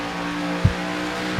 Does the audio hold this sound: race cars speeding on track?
yes